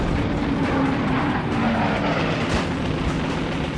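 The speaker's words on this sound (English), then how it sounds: "As the planes come in closer" World War II bombers approach in a dense, continuous engine roar that stays loud and steady throughout, with no voices.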